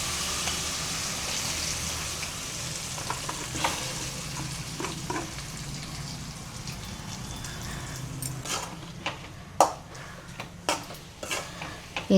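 Moong dal sautéing in ghee for Chettinad ukkara sweet is stirred in a pan, a steady sizzle with scraping spoon strokes that grow sharper and more frequent toward the end, close and without talk.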